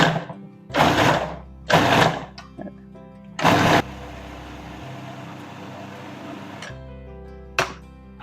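A food processor pulsing garlic with salt, giving several short loud motor bursts with chopping blade noise, then one longer whirring run and a final quick pulse, each separated by brief near-silent gaps.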